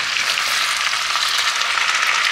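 Potatoes frying in a pan, a steady, loud hiss and crackle of hot oil held evenly throughout, with no voices.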